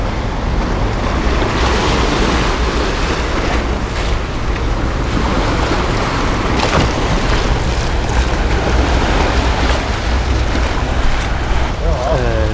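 Sea waves wash continuously onto a Beibu Gulf beach, a loud, rolling surf roar with strong wind buffeting the microphone the whole time.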